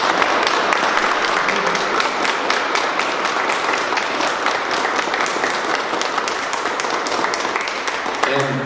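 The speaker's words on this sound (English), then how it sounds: "Let's give our military spouses a round of applause." Sustained applause from an audience at a bill-signing event for military families, dense steady clapping filling the whole span with voices mixed in.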